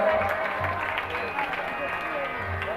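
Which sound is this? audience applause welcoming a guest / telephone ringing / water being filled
audience applause welcoming a guest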